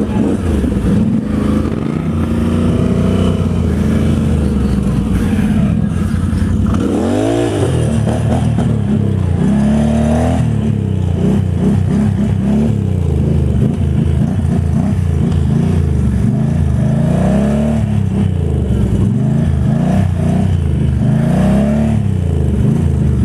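A Polaris High Lifter off-road vehicle revving and pulling a wheelie across a dirt arena, its engine roaring loud and close with rising and falling throttle surges and clattering throughout.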